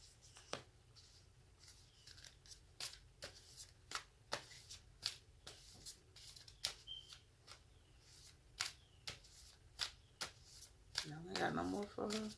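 Tarot cards being shuffled by hand, giving a long run of sharp separate riffling snaps at an uneven pace, close and fairly quiet, ending in a denser burst of card noise.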